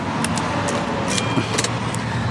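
Remote keys for a 2017 Isuzu D-Max 1.9 Hi-Lander jingle in a few short metallic bursts, close by, over a steady background hum.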